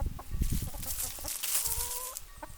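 Brown and black-and-white chickens clucking close by, a scatter of short, soft clucks and chatter with one drawn-out call near the end, fairly quiet overall.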